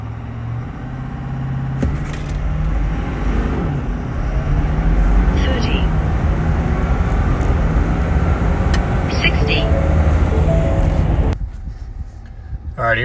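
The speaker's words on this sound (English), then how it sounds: "Zero to 60 four-wheel drive with some boost." A car launches 0 to 60 in four-wheel drive with boost, its engine roaring loudly and steadily for about nine seconds before cutting off abruptly, with talk over it.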